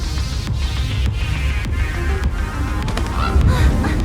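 A honking goose-like bird sounds in the video game Honkai: Star Rail, with repeated honks over a busy, steady game soundtrack.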